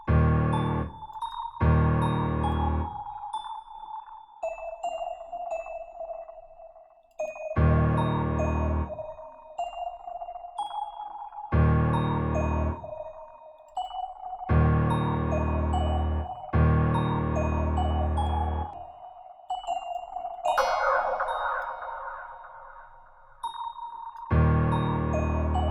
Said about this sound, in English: we're gonna try to find some kind of bell or crazy sound like that